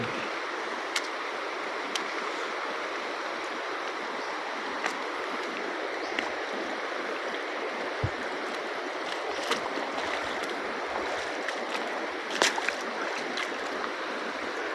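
River water streams steadily and close around a small boat during a crossing, a continuous wash of flow with a few faint knocks and splashes on top, no voices heard.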